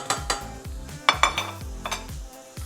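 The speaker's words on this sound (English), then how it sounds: "hit the pan with the chopped onions and the garlic, and we're just going to saute that for roughly 2 minutes" Chopped onions and garlic sautéing in a pan, with a utensil clinking and scraping against the metal in irregular taps over a light sizzle, close and clear.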